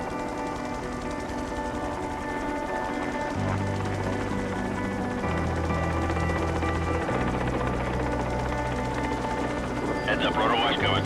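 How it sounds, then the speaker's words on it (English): A helicopter hovers close by, its rotor and engine making a steady low, throbbing drone that grows slightly louder and rougher as the rotor wash picks up, with faint voices underneath. "Heads up, rotor wash coming."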